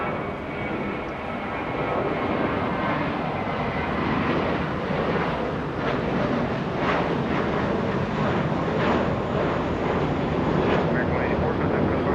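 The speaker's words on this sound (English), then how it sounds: "It's an A321 as Lufthansa heads to the gate." A Lufthansa Airbus A321 airliner taxis to the gate at Los Angeles International Airport, a steady, broad jet engine roar holding at a constant level throughout with airport ambience.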